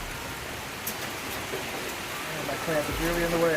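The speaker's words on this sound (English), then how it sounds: "Well, it is raining hard." Heavy rain falls outside in a steady broadband hiss that runs the whole time, with a person talking over it near the microphone.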